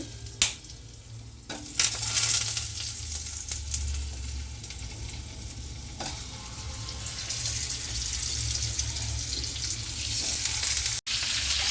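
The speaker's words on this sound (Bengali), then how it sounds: "এবার আলুগুলো আমি ছেড়ে দিচ্ছি" Potatoes drop into hot oil in a frying pan for a Bengali white potato curry, then fry with a steady, close crackling sizzle that continues throughout.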